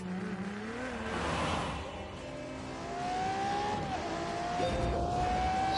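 A Ferrari engine revs and roars in The Grand Tour racing game, a continuous loud drone with rising and shifting pitch sweeps, alone without talk.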